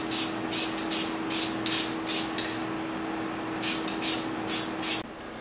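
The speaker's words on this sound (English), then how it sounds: "I'm misting on the black paint, but not so thick that I still can't see the grain underneath." Rapid hissing bursts of black spray paint misted onto a hardwood hand-plane tote and knob, roughly a dozen short even puffs in two runs with a pause between, over a steady low hum.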